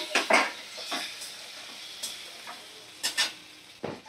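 Eggs and potatoes go into a pan of spiced oil, giving a few sharp clattering stirs and scrapes against the pan over a soft low sizzle, close by.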